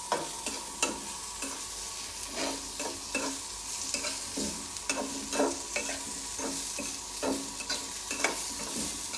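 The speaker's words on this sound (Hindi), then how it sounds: "इसकी आंच हम तेज़ ही रखेंगे क्योंकि इसको भी हमने सीयर करना है और इसको क्रिस्प करना है" Sindhi fried vegetables sear over high heat in a pan, stirred with frequent scraping strokes over a continuous sizzle, moderately quiet and with no talk.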